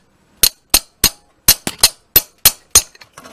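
Sharp, loud metallic hammer strikes ring out in a steady series, about ten blows with brief pauses, close by with no talking, hammering a slipping drive gear on a small bicycle motor.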